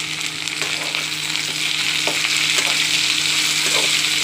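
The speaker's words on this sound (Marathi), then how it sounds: "छान अशी परतून घेऊया।" Sliced okra sautés with onions and salt in a pan, giving a constant, close sizzle with soft scraping stirs throughout.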